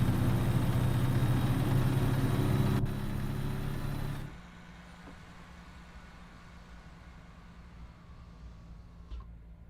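Idling truck engine in a video game, a 2016 Kenworth-style setup with an original Cummins X15 Performance, humming steady and loud before dropping sharply to a quieter low rumble partway through.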